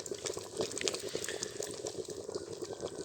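A steady fizzing, bubbling hiss of slaked lime reacting in warm water, continuous and close, with small popping crackles throughout.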